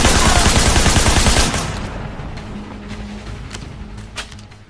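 Loud, dense gunfire from the game Sleeping Dogs rattles for about a second and a half, then drops away to scattered softer clicks and shots trailing off.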